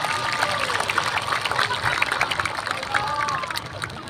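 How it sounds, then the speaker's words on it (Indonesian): Applause for Mbah Sungada at a national Santri Day ceremony in Patimuan, a crowd clapping steadily and fairly distant with scattered crackling claps throughout, fading slightly toward the end. "Tepuk tangan untuk Mbak Sungada"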